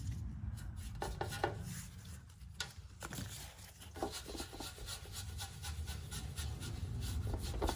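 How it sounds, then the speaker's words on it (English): Clear wax is rubbed by hand over painted wooden home decor during a thrift makeover, giving soft, repeated brushing strokes over a low background hum. "I'm just taking a little bit of the more clear wax. I'm just rubbing over it"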